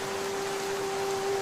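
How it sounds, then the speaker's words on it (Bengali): Steady rain drums on a house roof at night, a continuous soft wash of noise with no breaks, carrying a thin constant tone above it and no voices. "ঘরের চালে বৃষ্টির একটানা শব্দ শুনে ঘনেশ্বরের ঘুম ভেঙে গেল।"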